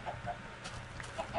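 Chickens in the Minecraft video game give a few short, soft clucks in quick succession, faint and alone.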